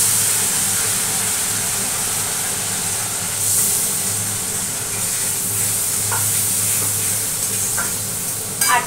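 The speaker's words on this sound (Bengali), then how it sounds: "আগে পেঁয়াজটা দিয়ে নিই, কেননা পেঁয়াজটা একটু ভাজা ভাজা করবো।" Onion sizzles steadily as it fries in a hot pan for a prawn malaikari, a loud, continuous hiss with occasional faint stirring clinks, no talking.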